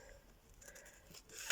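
Quiet, close scissor snips slicing through paper, a few soft cuts ending in a sharper clip.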